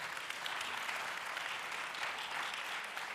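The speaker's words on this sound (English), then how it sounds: "let's first give a big round of applause to Stephen Sheldon." An audience applauds a guest speaker at a Torah Fund event, a dense, even wash of clapping sustained throughout, moderately distant and without speech.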